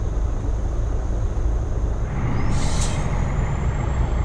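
A truck in American Truck Simulator releases its air brakes with a loud, sharp hiss partway through, over a constant heavy engine rumble close by.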